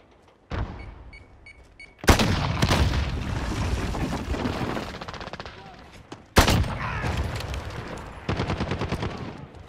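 Gunfire in Call of Duty: Modern Warfare, a click followed by two heavy loud bursts of shooting with booming reports and rattling tails, close and dominant, separated by a short lull.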